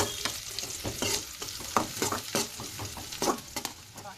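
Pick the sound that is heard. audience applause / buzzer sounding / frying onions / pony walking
frying onions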